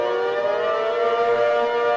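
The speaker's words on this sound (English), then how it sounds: "the siren kind of sounds like" A civil defense siren in a zombie apocalypse emergency alert broadcast wails as a steady, loud, droning tone, holding constant with no voices over it.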